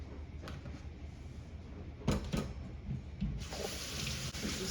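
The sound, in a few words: rinsing basmati rice in running water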